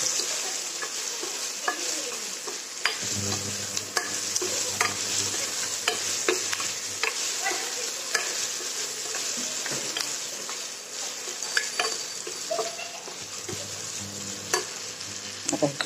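Broken wheat dalia roasts in a pan with garlic and ginger: a continuous dry sizzle, close and steady, broken by frequent clicks and scrapes of a spoon stirring against the metal.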